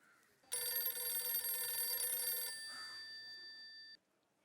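A mobile phone rings with a bright, steady electronic tone that sounds continuously for about two seconds and then carries on more faintly before cutting off, with nobody talking over it.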